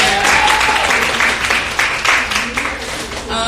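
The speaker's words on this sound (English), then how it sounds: "can we get claps for the birthday girl right" Audience applause for a birthday celebrant at a live fashion-house event, a steady wash of clapping that fills the whole stretch, with a voice speaking over it near the end.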